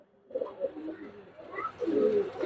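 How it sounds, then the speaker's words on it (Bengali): A pair of Teddy pigeons coo softly and repeatedly at close range, their low warbling calls rising and falling in a quiet loft. "এই এক জোড়া টেডি কবুতর, এই জোড়া রাখা দেবে 2000 টাকা"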